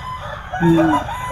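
A rooster crows once at close range at a busy Philippine market selling chickens. The call is short and rises then falls over a low background murmur.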